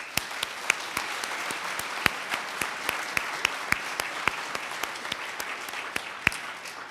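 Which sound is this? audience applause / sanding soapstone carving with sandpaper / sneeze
audience applause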